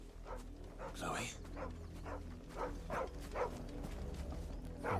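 A dog in the Final Fantasy XVI video game gives a series of short barks and whines at a steady rhythm, over a low ambient game backdrop.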